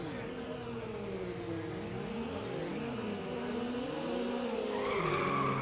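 Race cars in the Need for Speed Underground video game, Mazda MX-5s among them, whine with layered engine tones that climb and fall through gear changes. Tires squeal near the end, and the engine noise is steady and continuous with no talk.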